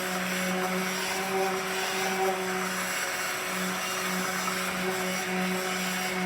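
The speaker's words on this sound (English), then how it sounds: "be careful not to pull the blender out" A blender mixing a soap mixture whirs steadily at a constant pitch, a continuous motor drone with no talking.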